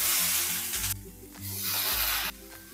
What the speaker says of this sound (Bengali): এবার পুঁই মিটুলিটাকেও সমস্ত সবজির সাথে খুব ভালো করে একটু ভেজে নেব।